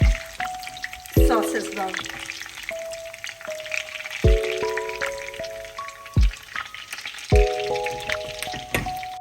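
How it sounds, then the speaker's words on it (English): Chicken pieces sizzle and crackle as they fry in a pan over high heat for Chicken Manchurian. A steady, close frying hiss runs throughout, with clear tonal beeps or music on top and a brief spoken phrase. "Now you have to fry about on the high heat for 5 minutes"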